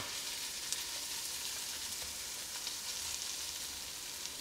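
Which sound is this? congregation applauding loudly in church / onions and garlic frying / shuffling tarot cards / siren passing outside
onions and garlic frying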